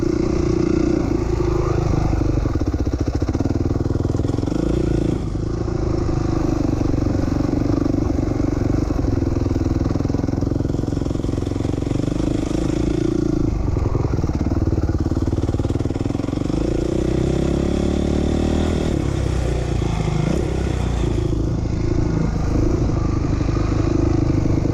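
Dirt bike engine running steadily in second gear around a motocross track at Doug Dunaway Memorial Motocross Park, a loud continuous drone with some clatter and slight shifts in pitch, no talk.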